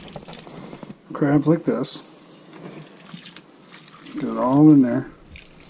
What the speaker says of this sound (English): this is your steaming liquid. So we're just going to pour this over the